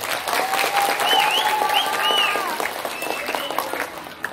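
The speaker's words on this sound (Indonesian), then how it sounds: "Tepuk tangan." An audience claps in a hall, steady broadband applause from many hands while a few voices and whistle-like calls rise over it, fading slightly toward the end.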